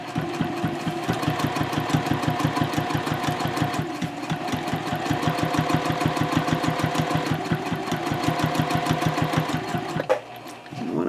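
A sewing machine stitching a messenger handbag at a 3.0 stitch length, fast steady mechanical chatter of needle strokes, close and even, pausing briefly near the end before restarting.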